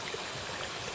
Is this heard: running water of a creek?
yes